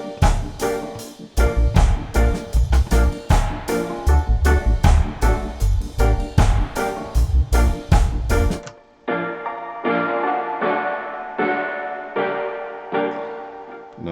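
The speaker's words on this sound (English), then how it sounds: "show you what the spring sounds like" A drum pattern of kicks and snares washed in a splashy, metallic spring reverb; the drums stop and a ringing, boingy tail lingers briefly.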